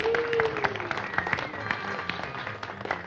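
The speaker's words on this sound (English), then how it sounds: "everybody give Raymond a round of applause" A crowd at a pinball competition breaks into applause, dense clapping close and steady for a few seconds, with faint voices and a brief whistle mixed in.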